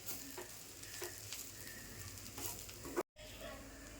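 Grated coconut dry-roasting in a pan gives a quiet, dry rustle with soft scraping stirs, then cuts out briefly before carrying on.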